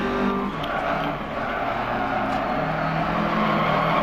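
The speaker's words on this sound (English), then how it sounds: "Just keep on the throttle a little bit there, accelerating up the gears over the little jump" A rally car in the racing video game Dirt 4 holds a steady, loud engine drone as it accelerates, with tire noise and gravel hiss mixed in and no voices over it.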